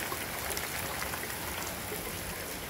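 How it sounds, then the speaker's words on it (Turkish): Rain falls steadily, a dense, even hiss of drops on surfaces with no voices or pauses. "Yağmur şöyle. Devam ediyor."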